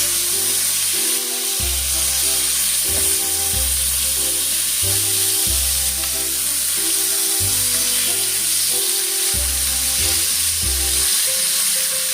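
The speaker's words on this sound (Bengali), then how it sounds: "মাছগুলোর এক পিস ভাজা হয়ে গেছে আর এক পিস" Fish pieces fry in a pan for a Bengali sweet-sour rui fish dish, giving a steady close sizzle and hiss throughout, with rhythmic background music over it.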